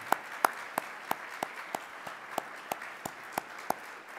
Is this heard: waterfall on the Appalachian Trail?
no